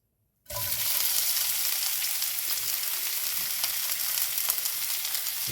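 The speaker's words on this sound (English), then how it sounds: "we're gonna start our onions, and you all know what my favorite sound is" A loud, steady sizzle of onions frying in a hot cast iron skillet starts abruptly after a brief silence and continues with small crackles and pops.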